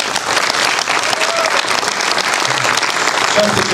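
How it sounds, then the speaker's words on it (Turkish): At a film premiere gala, a crowd claps in a loud, dense, continuous round of applause that holds steady throughout, with faint voices mixed in underneath. "Çift maske pandemiyle hepsine bir alkış."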